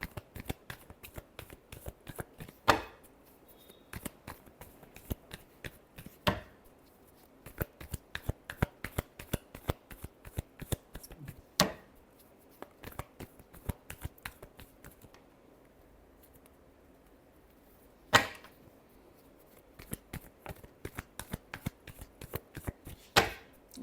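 A deck of tarot cards is shuffled close up in repeated quick riffling bursts and soft slaps, with a few sharper snaps between quieter stretches.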